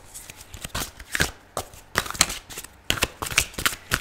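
A deck of Archangel Power Tarot cards by Doreen Virtue being shuffled, with repeated riffling bursts and papery card slaps in a rapid, uneven rhythm, close and fairly loud, with no talking.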